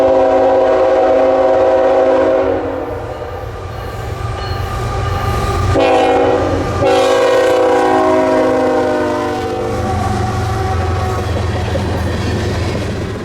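A northbound CN freight manifest train bound for Canada rolls past Iron Junction on the Iron Range, loud and close, its horn sounding in long sustained blasts over the steady rumble and clatter of wagons.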